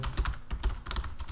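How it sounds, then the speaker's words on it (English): Fast typing on a computer keyboard while entering a search query into Google, a steady run of close, distinct key clicks with no talking. "if I open Google and I type in, let's say, digital marketing"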